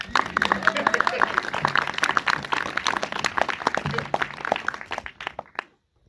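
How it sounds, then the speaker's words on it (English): An audience at a film Q&A claps for the directors of the documentary My Way. The dense, steady applause runs under a man's speech and dies away at the end. "these two guys, they really merit a lot of applause"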